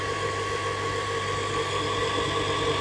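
A hand-cranked honey extractor spins steadily, honey flung against its sides, giving a loud continuous drone with a low hum and a steady mid tone that barely changes throughout.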